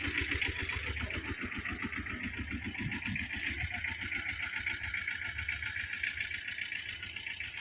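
A 2012 Tata Ace small commercial vehicle engine idles close by, a steady low rhythmic chugging with faint knocking pulses, continuous and alone with no talk.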